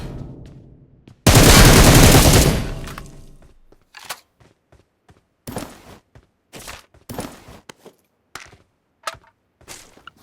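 Gunfire in the PUBG Mobile video game: a loud, dense burst of automatic fire about a second and a half long, followed by scattered sharp single shots and cracks at varying distances.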